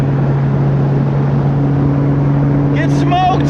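K20-swapped Honda Civic easing on the throttle in sixth gear on an open road, a steady droning engine hum with a constant low tone, with a brief voice near the end.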